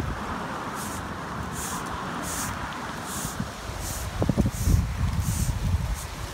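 Steady outdoor wind rushes and buffets with rustling of plants in a small urban pocket park, a low rumble swelling near the end, and faint periodic high hisses in the background.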